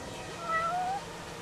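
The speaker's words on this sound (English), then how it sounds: "Let's see if we can get the cat to follow the drone." A cat meows twice inside the video game Judgment, two short rising tonal calls close together against a faint in-game ambient hum.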